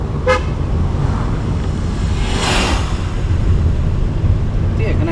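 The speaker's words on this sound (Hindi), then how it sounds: "बहुत ट्रैफिक है इधर।" Busy road traffic with car horns honking, a short toot at the start and more near the end over a continuous rushing, wind-like roar of passing vehicles.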